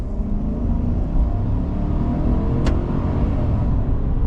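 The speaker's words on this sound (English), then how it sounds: "the exhaust note." A 2025 Chevrolet Silverado pickup truck's exhaust note: a steady, deep rumble that holds constant throughout without pauses, close and moderately loud, with no voices.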